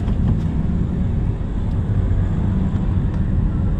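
A Mitsubishi Xpander Cross with a manual transmission pulls away from a stop, its engine rumbling steadily and low inside the cabin, with faint road noise and no talking.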